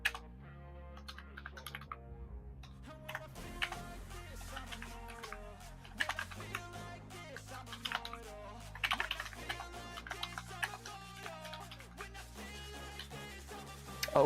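Fingers tap quickly and irregularly on a computer keyboard during a typing test, a dense patter of close, crisp key clicks with brief pauses.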